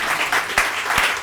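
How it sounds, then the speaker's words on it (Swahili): A studio audience applauds at a Kenyan talk show, a short burst of steady clapping heard clearly without speech. "Wapi makofi ya Brian?"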